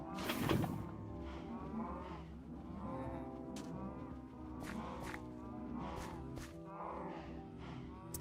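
Cattle lowing in a Minecraft-style video game farm crowded with cows, several overlapping moos at close to middle distance, with a loud burst near the start and steady mooing throughout and no talk over it.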